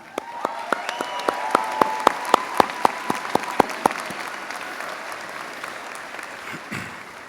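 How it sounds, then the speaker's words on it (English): Scattered audience hand claps at a medical school commencement ceremony: a run of distinct, sharp claps in an uneven rhythm for about four seconds, then trailing off into a quiet hall. "So I want to give you another round of applause."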